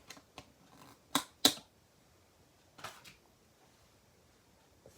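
Paper being cut out with scissors at close range, a few sharp snips grouped near the start and another pair a little later, separated by near silence.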